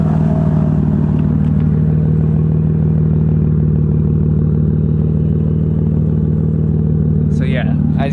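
A BMW M3/M4 with an Active Autowerke exhaust and catless downpipes holds a loud, steady idle drone recorded from outside the car, with a brief rev and crackle at the very end.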